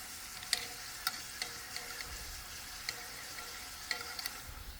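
Corn tortilla strips fry in a pan for tortilla soup with a soft, even sizzle, punctuated by occasional light ticks and clicks of stirring, quiet and close with no voice.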